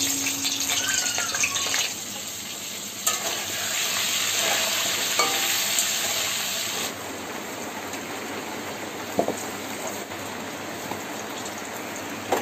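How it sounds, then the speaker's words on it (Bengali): Crabs rubbed with salt and turmeric fry in a wok of oil with a loud, steady sizzle and crackle, and occasional stirring clatters come through near and close, without any talk. "কাঁকড়াগুলো এবার ভেজে নিচ্ছে, নুন হলুদ দিয়ে, শুধু নুন হলুদ দিয়ে মাখানো।"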